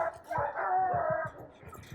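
A pet dog gives a run of short, close yips and barks with a whimpering, whiny tone, repeating in a loose rhythm.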